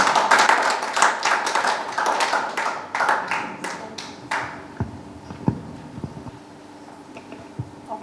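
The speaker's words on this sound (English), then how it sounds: "Please, a round of applause." Audience applause at an event honouring a five-year-old calendar prodigy, a burst of clapping from a group that starts loud and thins out after about four seconds into a few scattered claps.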